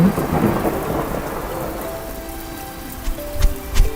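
Heavy rain pours steadily, with rumbling thunder rolling beneath it at the start and a few scattered drips and thuds near the end; no voices.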